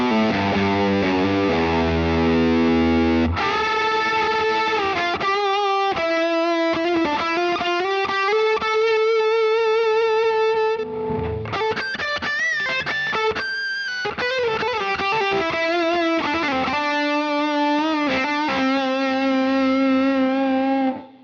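A guitar through a drive effect on a Fractal Audio Axe FX III, playing distorted chords and melodic lines with sustained gritty harmonics, loud and close with no talking.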